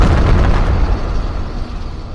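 A nuke detonates in the VR game Animal Company, a loud, booming blast that hits at once and rolls into a long, dense rumble that slowly fades over a couple of seconds.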